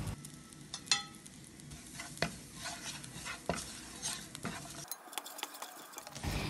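Garlic with chilli flakes and oregano sautéing in a pan, steady close sizzling with scattered sharp clicks of stirring, then a brief hiss-only stretch before the pan noise returns.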